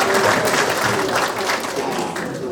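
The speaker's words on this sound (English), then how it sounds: "So give yourselves a round of applause." Dense, sustained applause from the audience at a Florida BMX Hall of Fame ceremony, a steady wash of many hands clapping together that eases slightly toward the end.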